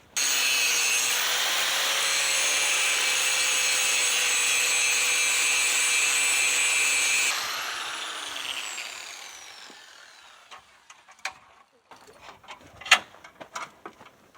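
A grinding wheel works steel on a 1976 Ford F100 under restoration, giving a loud steady whine with a shifting tone for about seven seconds. The wheel then winds down and is followed by scattered clicks and light knocks.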